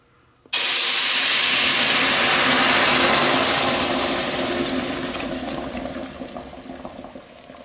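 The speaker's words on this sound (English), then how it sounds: "Once the oil's hot, we're gonna add our salsa." Salsa hits hot oil in a pan with a sudden loud sizzle that holds steady, then slowly fades into a softer crackling hiss.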